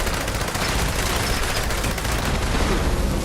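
A Gauss minigun fires in Fallout 76 in a dense, unbroken stream of loud, rapid gunfire that fills the whole stretch without a pause.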